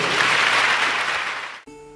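A church congregation applauds with steady, dense clapping that holds for about a second and a half, then fades and cuts off abruptly into a short musical tone.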